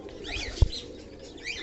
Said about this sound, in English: I'm just enjoying by releasing all my fancy birds, fantails